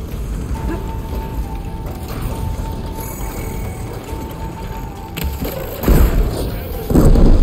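Large robotic machine in Horizon Forbidden West moving with mechanical clanks, ratcheting and heavy thuds over a steady game rumble, growing louder toward the end.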